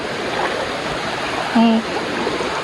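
A river on the route to Balon Falls rushing steadily as a loud broadband flow throughout, with a voice briefly speaking over it.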